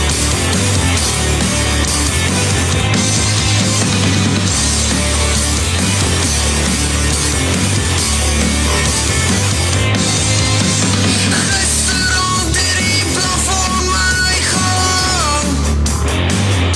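A gritty rock-and-roll song recorded for a band's EP plays loud and continuous, full-band instrumentation with dense guitars and steady drums throughout.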